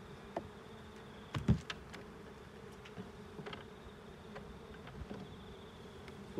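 Honeybees buzzing around an open hive during honey harvesting: a faint, steady hum of bees with a few soft knocks and taps from handling frames.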